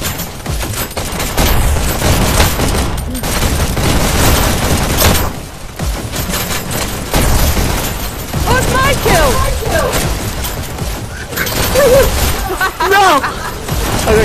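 Video game Hyper Dash deathmatch battle with dense bursts of rapid gunfire and booming bomb blasts, loud and continuous, with people talking over the action.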